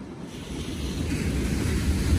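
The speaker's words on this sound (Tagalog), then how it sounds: "Kung naririnig nyo yung hagupit ng alon sa dalampasigan, ayan siya." Pacific Ocean surf breaking on the shore below a high vantage point at Dipaculao, Aurora, Philippines, a distant low rumbling wash slowly swelling, mixed with wind buffeting the microphone.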